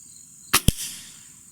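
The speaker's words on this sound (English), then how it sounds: "We're shooting at the eye in Dixie, aren't you?" A Gamo Swarm Magnum air rifle fires at a deer skull: a sharp crack followed almost at once by a second impact snap, both brief and close against a quiet background.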